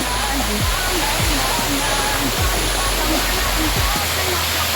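Encanto Falls, a resort waterfall, pours as a loud, steady, broadband roar that fills the whole clip, with a few low thumps beneath it.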